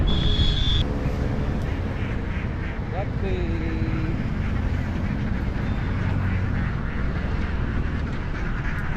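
Ducks quack in short nasal bursts at a duck shop beside the Chembarambakkam surplus water canal, over a constant low rumble of traffic, with a voice speaking at the same time.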